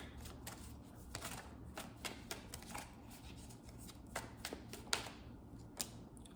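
Tarot cards being shuffled by hand, a steady run of close, crisp riffling taps and slaps that goes on for several seconds with no voice.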